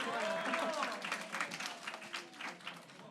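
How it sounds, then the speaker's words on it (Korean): An audience applauds a performer at a youth group lecture, a brief burst of scattered clapping that fades quickly, heard faintly while a voice speaks over it. "제 뒤에 있는 오늘 연기해준 임종혁 운동원에게도 박수 한번 부탁드립니다"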